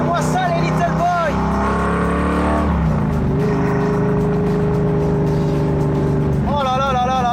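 A hot rod car engine rumbles loudly at close range, pulling with a steady low throb and shifting pitch as it passes, while someone talks over it throughout.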